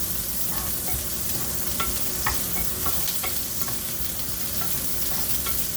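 Shallot and garlic frying in a pan, a steady close sizzle broken by occasional clicks and scrapes of stirring, with no talking.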